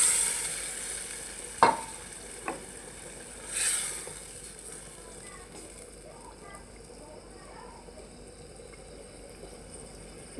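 Pabda fish going into a pan of cooked-down spiced masala, with a couple of sharp clatters followed by a soft, steady sizzle and a brief hiss, a voice talking over it.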